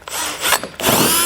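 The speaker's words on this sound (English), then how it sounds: "we'll come back with a 1/4" drill bit" A power drill fitted with a 1/4 inch bit bores a hole during a hidden front-mount trailer hitch install, whirring in short loud bursts with a brief pause between runs.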